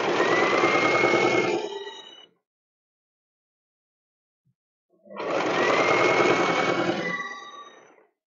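A sewing machine stitching a bear-shaped backpack runs in two loud, close bursts of rapid rhythmic whirring, separated by about three seconds of silence.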